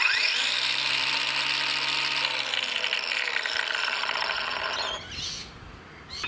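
An Ozito 18V cordless lawn edger whirs loudly at close range with its blade at full speed, then winds down as the trigger is released, the motor fading to a low rattle over the last second.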